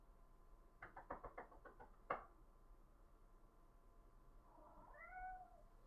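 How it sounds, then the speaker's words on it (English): A cat scratches at a door indoors in a quick burst of raspy scrapes and a sharp knock, then gives a single faint meow, all at low volume. "Doesn't want in, just wants to scratch my door."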